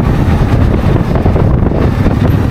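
Steady, heavy wind buffeting an uncovered microphone, a dense low roar that fills the whole stretch without letup, recorded on a motorcycle ride through the Austrian Alps.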